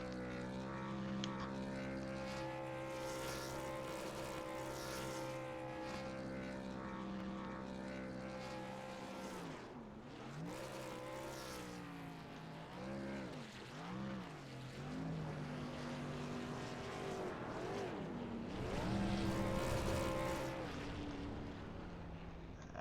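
A race car engine revs hard and steadily through a sim racing game at Las Vegas Motor Speedway, its pitch rising and falling with shifts, loud and continuous for the whole stretch with no talk.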